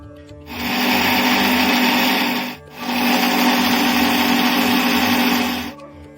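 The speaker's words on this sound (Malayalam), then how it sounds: "നമുക്ക് മിക്സിയിൽ വെച്ച് ആവശ്യത്തിന് വെള്ളവും കൂടി ചേർത്ത് നല്ലതുപോലെ അരച്ചെടുക്കാം" A kitchen mixer grinder whirs loudly as it grinds grated coconut with water for a Kerala-style curry, running in two steady bursts with a brief pause between them, close and alone.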